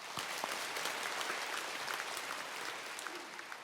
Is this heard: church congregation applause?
yes